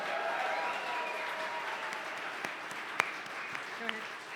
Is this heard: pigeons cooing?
no